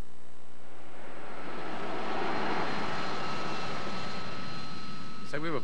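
A Harrier jump jet's engine roars loudly and steadily with a high whine, and a voice briefly cuts in at the very end.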